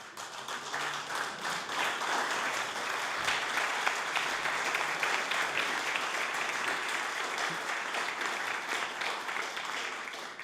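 Members of a legislative House of Assembly applauding, a steady roomful of clapping with some desk tapping, sustained at an even moderate level for about ten seconds.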